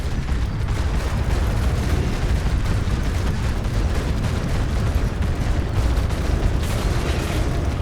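Spaceship weapons fire in the video game Moon Breakers, a rapid steady stream of shots layered over a heavy engine rumble, loud and continuous throughout with no clear pauses.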